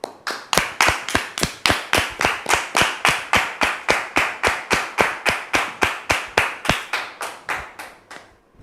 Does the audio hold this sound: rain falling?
no